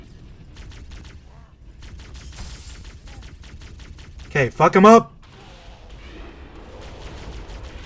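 Rapid weapon fire from the video game Halo: Cursed Edition rattles in repeated clipped bursts, with a louder blast cluster midway, as a player talks over it.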